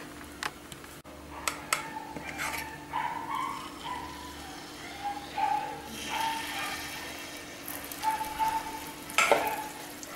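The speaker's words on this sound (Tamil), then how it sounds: "நம்ம இப்போ பணியாரம் ஊற்றுவோம்." Wheat sweet kuzhi paniyaram batter sizzles in an oiled paniyaram pan, with quiet intermittent bursts of frying and occasional metallic clicks and scrapes, heard close.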